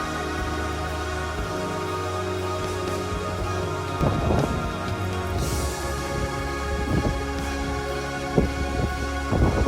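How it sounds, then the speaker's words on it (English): Thunder rumbles over steady rain high in the Wind River mountains, with a louder, fuller roll from about four seconds in and a sharp crack near the end, all under a constant wash of falling rain. "I heard thunder"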